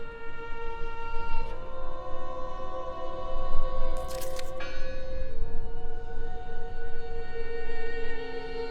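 A bell rings in the video game Draugen with sustained, resonant tones that hang in the air over a low ambient rumble, joined briefly by a bright metallic shimmer.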